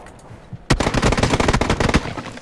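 Rapid burst of automatic gunfire in the battle royale game PUBG, loud and close, a dense stream of shots after a brief quiet moment with faint background noise.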